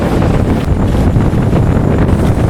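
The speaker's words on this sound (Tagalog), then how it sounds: "medyo lang malakas-lakas ang hangin dahil nga amihanin" Strong northeast monsoon wind buffets the microphone on the coast at Lawis, Patnanungan, Quezon, in a steady, loud roar, with low rumbling gusts and faint water noise underneath, no voices.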